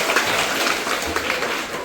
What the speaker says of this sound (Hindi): जोरदार तालियां इनके लिए बजा सकते हैं